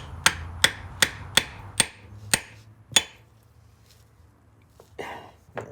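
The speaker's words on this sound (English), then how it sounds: "using a chisel and a hammer and some gentle love taps, I got the plug to come free." Seven sharp metal taps of a hammer on a chisel, loosening a stuck drain plug on a Polaris RZR 800 drivetrain, struck in a steady rhythm and ringing close, followed by quiet and a couple of faint shuffling sounds.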